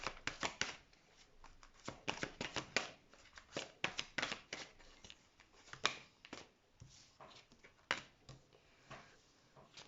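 Tarot cards are shuffled close up for a card reading: quick bursts of riffling and flicking, then irregular soft taps and slides, fairly quiet with no talking.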